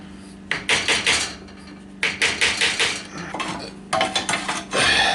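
Wooden mallet striking a wooden dowel to seat a crank seal on a Yamaha G1, with sharp close taps in quick clusters of four to five, three bursts separated by short gaps.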